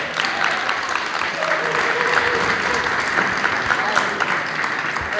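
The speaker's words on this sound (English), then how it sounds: "So give them a round of applause." An audience applauds at a Special Olympics USA Games pep rally in Sandusky County, a dense, steady roomful of clapping that carries on for several seconds.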